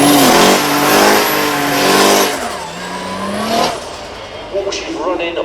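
A car with a turbocharged Volkswagen 2.7 litre V6 revs hard and drives by loudly at the Beaulieu Supercar Weekend, its engine note rising and falling before fading into crowd noise.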